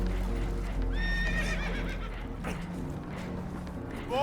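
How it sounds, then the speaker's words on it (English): Spooked horses in Red Dead Redemption whinny sharply, one loud neigh near the start and another at the end, over rumbling background noise aboard a boat taking on water. "Horses are spooked, and we're taking on water."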